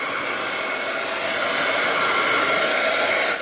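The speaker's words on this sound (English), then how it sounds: "I'm just going to use my heat tool to dry this a little bit" A heat tool blows a loud, steady whirring rush of hot air close by as it dries craft paint on a card board, with no voices over it.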